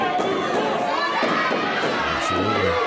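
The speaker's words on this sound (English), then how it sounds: "This crowd fired up." A wrestling crowd at a live independent show cheers and shouts in a steady roar, with chatter mixed through the noise.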